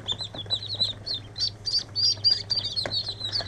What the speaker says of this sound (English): Little ducklings.